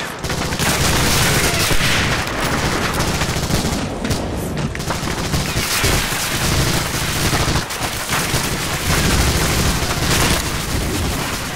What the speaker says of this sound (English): Especially if you get caught in gunfire in a foxhole and your squadmates are rushing in and blocking your path at the same time.